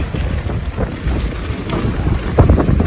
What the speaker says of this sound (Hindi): तो बाहर तूफान देखें, तेज़ देखें, कितनी हवा चली हुई है।